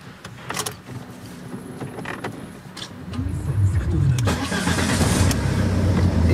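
A car engine cranks and catches, settling into a steady running idle that stays up close and loud, after a stretch of mechanical clicks and creaks.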